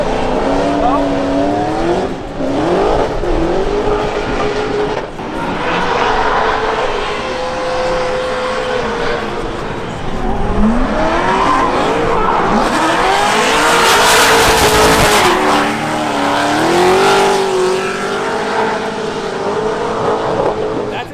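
Cars in a drift battle race each other, engines revving loudly with rising and falling whines and some tire noise, continuous throughout, with people talking over it.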